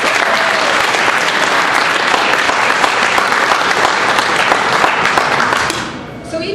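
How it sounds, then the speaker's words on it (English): An audience at a city State of the City meeting applauding a new Chamber of Commerce member, their office manager, with loud sustained clapping that tapers off at the end. "may we all give a round of applause"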